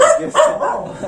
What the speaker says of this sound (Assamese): কুকুৰটো ভুকিছে